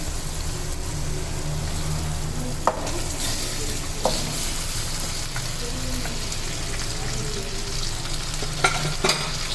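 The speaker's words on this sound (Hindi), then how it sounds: "चलिए अब इसमें पाए डाल देते हैं।" Beef trotters fry in oily masala with a dense continuous sizzle, while a spoon stirs and knocks against the pot a few times; close and fairly loud, no talking.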